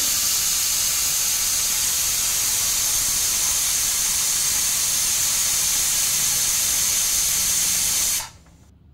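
A pressure cooker cooking drumstick soup lets out one long, loud, continuous steam hiss that holds steady for about eight seconds, then cuts off abruptly into quiet.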